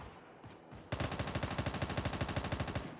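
A faint shot or two, then sustained rapid automatic gunfire in a steady, loud rhythm, from the game Call of Duty Mobile.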